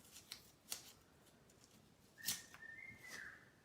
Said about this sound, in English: my African gray. If you can hear whistling.